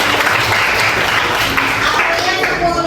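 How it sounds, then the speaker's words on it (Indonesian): A room of children claps loudly and continuously for a classmate named Mayumi, with voices mixed into the applause. "tepuk tangan buat Mayumi"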